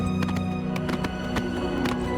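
A horse's hooves clip-clop in a steady trotting rhythm in Oblivion Remastered, close and clear over a low ambient game background.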